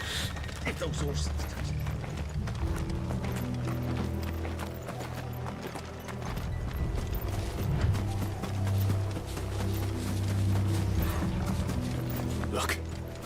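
Horses gallop in Final Fantasy XVI, their hooves a steady, loud clip-clop over a music and ambience bed throughout.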